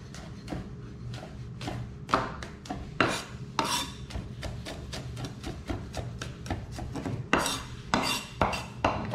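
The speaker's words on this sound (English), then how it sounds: "And you just chop, do a nice rough chop on the garlic." Knife roughly chopping peeled garlic on a cutting board, a steady run of close, sharp knocks at an uneven quick pace with occasional heavier thuds.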